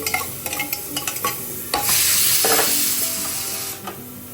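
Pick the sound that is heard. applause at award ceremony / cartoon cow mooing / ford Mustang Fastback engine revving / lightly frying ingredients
lightly frying ingredients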